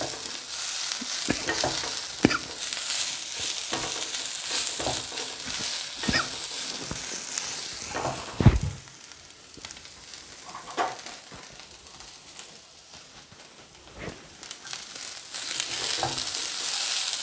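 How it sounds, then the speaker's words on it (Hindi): Onions and beans are stirred in a hot frying pan, giving a continuous sizzle broken by scraping strokes and a few louder clanks of a utensil against the pan. The sound is close, with no speech. "इसके साथ थोड़ी सी बीन्स डालूंगा मैं इसको फटाफट फिर से एक बार स्टर कर लेंगे हम लोग"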